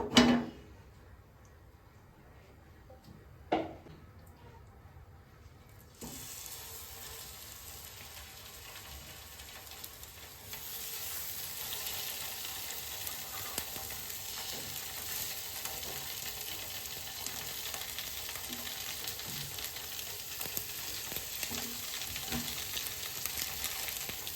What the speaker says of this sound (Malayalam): ഇനി മീൻ വറുക്കാനുള്ള പരിപാടി